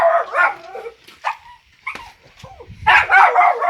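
A dog barks and yips in short bursts at an outdoor rural pig slaughter, with a few sharp calls at the start and a louder run of barks at the end, with quiet gaps between.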